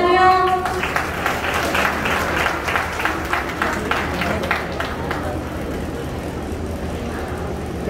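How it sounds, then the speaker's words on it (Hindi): Audience applause breaks out at a public talk in India, a sustained round of clapping from a crowd that carries on for several seconds at moderate volume before slowly thinning out. "एक बार जोरदार तालियां।"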